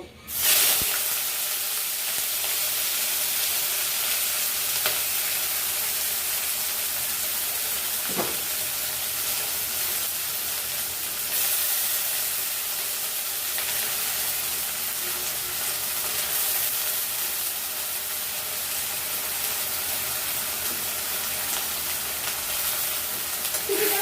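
Chopped onion frying in melted, reddened sugar and oil for chicken biryani, a continuous soft sizzle and hiss held steady throughout, with an occasional faint clink or stir.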